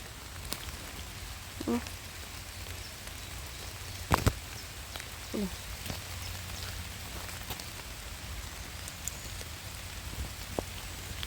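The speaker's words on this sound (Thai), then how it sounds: "ว้ายฝนตก" Steady rain patters on a surface throughout, with a few sharp drop or knock sounds standing out; a voice is faintly present in the background.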